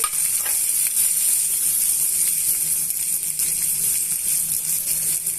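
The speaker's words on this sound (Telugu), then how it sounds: "ఇవన్నీ కూడా నాకు బాగా మిక్స్ చేసేసి ఇలా అన్నీ కూడా వేయించేసుకోవాలండి" Thinly sliced onions and green chilies frying in oil in a pan, a continuous close sizzle with bright hissing and faint stirring scrapes throughout.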